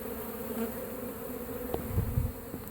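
Honeybees from a hive removed from a cinder block wall in Lakeland, Florida, buzz in a steady, continuous drone, with a few louder low passes as individual bees fly close by.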